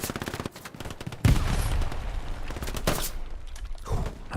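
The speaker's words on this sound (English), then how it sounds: "Fires a few extra rounds." Rapid gunfire bursts from a competitive Hell Let Loose match on the Kharkov map, a close weapon loosing several loud extra rounds in quick succession, with further shots and battlefield din continuing underneath.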